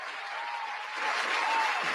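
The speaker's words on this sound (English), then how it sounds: "I want to give a round of applause." A short, moderately quiet round of applause from a crowd, a steady wash of clapping that swells slightly before cutting off.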